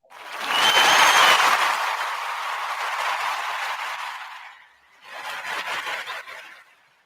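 Applause builds quickly into a steady, dense wash of clapping, fades briefly, then returns for a shorter second burst, with no voices over it.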